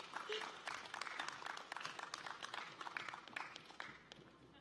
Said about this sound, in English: Members of Alpha Sigma Lambda, let's give them a round of applause